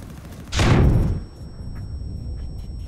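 A flash grenade detonates in Planetside 2 with one sharp, loud burst that decays over half a second, followed by faint ambient hum and a thin high whine.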